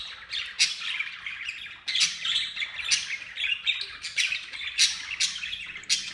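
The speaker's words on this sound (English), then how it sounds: "when they start chattering, they just keep going for hours non-stop" Several budgie parakeets chatter and squawk continuously, a dense, close flock of bright chirps and harsh squawks with no pauses, loud and busy throughout.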